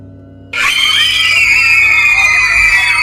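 A sudden loud, long scream breaks in after a moment of quiet and holds at a piercing high pitch to the end.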